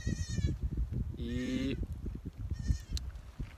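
Goats bleat repeatedly in a farm pasture where does were put to give birth, with kids nearby; several nasal bleats come close and clear over rustling and outdoor background, and someone talks briefly.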